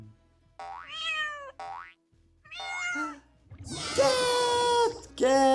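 Cat meowing in an animal sound quiz for children: several separate drawn-out, rising-and-falling meows with gaps between them, close and fairly loud, the later ones longer and more insistent.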